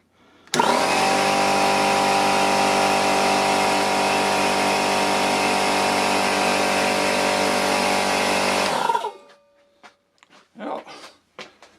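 A workshop air compressor, newly added to a repair bench, runs steadily at close range for about eight seconds with a loud, even motor hum, then stops; a few short clicks and knocks follow in the quiet.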